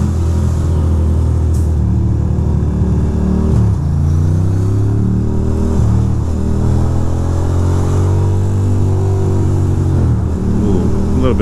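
A Ducati motorcycle pulls away through New York City traffic, its close, loud engine rumbling steadily and rising in pitch through several surges of throttle.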